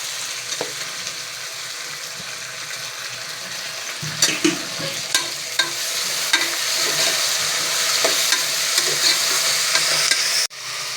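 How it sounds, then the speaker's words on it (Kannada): Onions and three green chilies sauté in a pan for mushroom biryani, a steady broad sizzle with scattered stirring scrapes and clinks, loud and close, no voices. "ಈರುಳ್ಳಿಯನ್ನು ಚೆನ್ನಾಗಿ ಬಾಡಿಸಿಕೊಂಡು ನಂತರ ಟೊಮೊಟೊ ಹಾಕಿಕೊಳ್ಳಿ"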